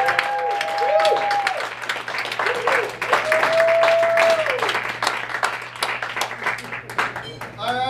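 An audience claps and cheers at a live rock show, sharp dense clapping that carries throughout, with a whistle-like tone and voices sounding over it.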